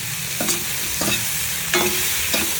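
A spoon stirs corn kernels in a pan with four distinct scraping strokes, close and fairly loud, with a soft sizzle underneath and no voices.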